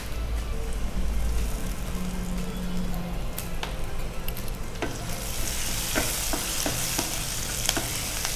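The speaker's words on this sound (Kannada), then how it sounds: "ಸಣ್ಣ ಈರುಳ್ಳಿ ಚೆನ್ನಾಗಿ ಅದು ಫ್ರೈ ಆಗಬೇಕು" Small onions fry in a pan for okra masala curry, with a steady close sizzle and scattered scraping clicks from stirring.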